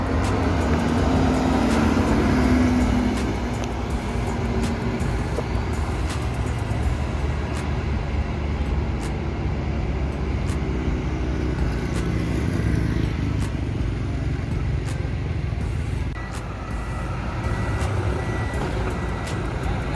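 An MPM Sultan Class bus with Laksana bodywork departing a terminal for Jakarta, its engine rumbling at a steady idle and pull-away while reversing beeps sound repeatedly nearby, with no speech over it.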